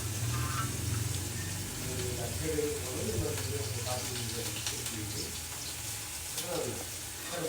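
Bottle gourd murukulu frying in hot oil, a soft continuous sizzle and bubbling heard fairly close under a woman's speech.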